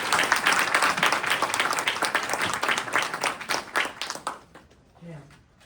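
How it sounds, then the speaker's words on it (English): An audience gives a round of applause at a live event, dense clapping filling the room for about four seconds before it thins to scattered claps and fades, with a brief low voice near the end. "So let's give them one round of applause."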